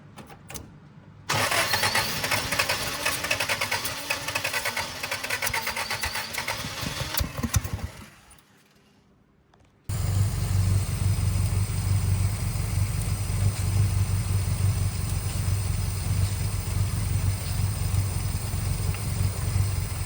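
A 1976 Datsun 620 pickup engine cranks with a wavering starter whir for several seconds, falls quiet briefly, then catches and settles into a loud, steady, rumbling idle close by.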